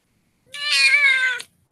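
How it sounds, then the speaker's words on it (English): A cat gives a single drawn-out meow of about a second, clear and close, with no other sound around it. "I was hoping that she would let out her little meow."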